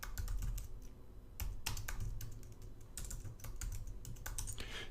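Command typed on a computer keyboard in a Linux terminal, heard as quick, close, crisp key clicks in irregular bursts with short pauses and no talking.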